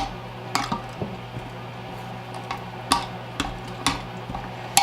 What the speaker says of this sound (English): Stir it up with my Amish dough